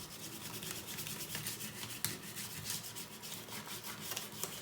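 Steady scratchy sanding of wood, a continuous rhythmic rasping rubbed back and forth with no voices.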